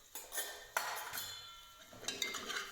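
Spices with cumin, turmeric, coriander powder and red chilli in oil being stirred in a cooking pot for mutton curry, with soft metallic scrapes and clinks of a ladle against the pot, close and fairly quiet.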